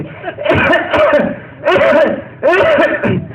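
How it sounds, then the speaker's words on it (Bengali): A person gives several loud, close coughs on request, coming in three separate bursts with short pauses between them and no other sounds. "কাশি নেন ভালো করে কাশি নেন"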